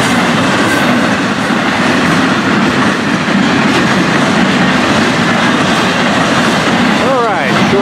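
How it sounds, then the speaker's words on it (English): An FEC freight train rolls past on the rails, loud and close, a continuous roar with rhythmic clickety-clack of wheels over joints, and a brief wheel squeal near the end. "All right, short, fast train."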